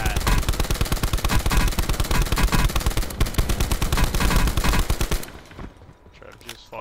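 Rapid automatic fire from a GRAV gun in a video game, a dense loud stream of shots that runs for several seconds before cutting off into quieter background sound.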